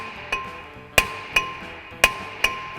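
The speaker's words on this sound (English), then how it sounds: "With a little force with a hammer, we call them the BFH." A hammer strikes a rusted brake rotor during a brake change, landing five sharp metallic blows at irregular intervals, close and loud against a quiet background, with no talk.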